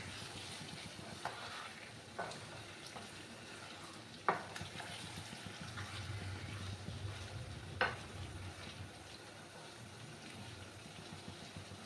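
Chicken frying in a pan over a high gas flame makes a soft, steady hiss with a few scattered crackles and pops, and no one talks.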